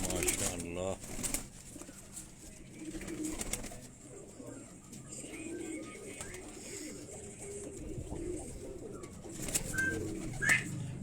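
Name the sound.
pigeons cooing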